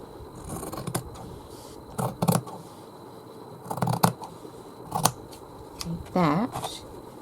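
Scissors cut fabric for a Christmas tree skirt in several short bursts of snipping and scraping, close and fairly clear, while someone talks over parts of it.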